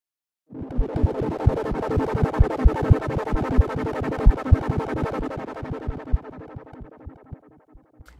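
A static synth pad processed through a NoiseAsh Palmary modulation effect with some drive swells in and pulses with rapid rhythmic motion, a dense, slightly distorted sustained tone that gradually thins out and fades.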